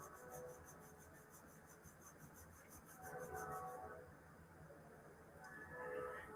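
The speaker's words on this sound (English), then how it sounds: "And yes, that is a train going by." A train rolls past in the distance, a faint rumbling wash with intermittent rail squeals that rise and fade.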